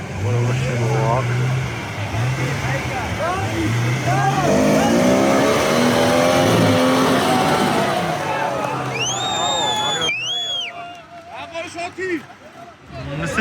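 A modified off-road vehicle at a Racha trophy trial revs and strains its engine, whining up and down in pitch as it climbs out of a mud puddle, with people talking and shouting over it.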